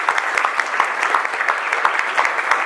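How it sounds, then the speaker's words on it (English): An audience at a symposium applauds its guests with loud, dense, continuous clapping that holds steady throughout, with no voices breaking through. "I don't know if we can give one more round of applause to our guests."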